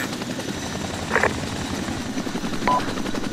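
Helicopter in the military video game ARMA 2, a loud, steady rotor drone with a rapid chopping pulse, close and continuous, with two brief radio-like blips over it.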